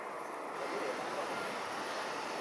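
A German government Airbus A350-900 jet taking off at Haneda airport, heard as a steady, distant broadband engine roar with no change in level.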